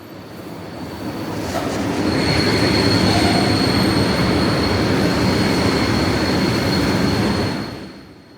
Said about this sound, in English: I'm going to ride the train one stop to Matveyevskaya station